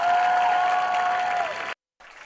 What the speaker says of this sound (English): round of applause for your marching Bulldog